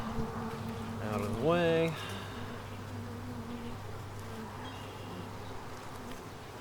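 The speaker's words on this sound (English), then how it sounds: "This is just a full box of bees." Dense buzzing of honeybees in a full hive box, a steady close drone that carries on throughout, while someone speaks briefly over it near the start.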